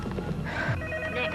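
A telephone rings with a faint, electronic warble in a film scene, quiet and partly buried under background noise.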